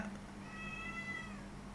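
A cat gives one drawn-out meow, thin and fairly faint, over a low steady background hum, with no voices.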